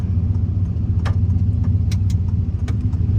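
Chevy pickup truck rolling on a wet, greasy winter road, a steady low engine drone with tire rumble close by, broken by a few short crackling splashes and clicks.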